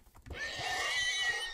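A horse neighs in a fantasy role-playing video game, a sharp rising whinny that sustains loudly and close for over a second, following a brief soft bump at the start.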